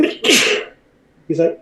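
A single loud, close sneeze bursts out early, followed by a brief pause and then a short spoken phrase.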